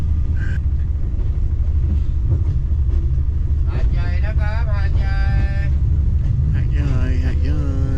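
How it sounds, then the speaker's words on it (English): Low rumbling of a train rolling into Hat Yai station in Thailand, with short horn toots and voices talking over the steady drone. "We are just coming into the train station."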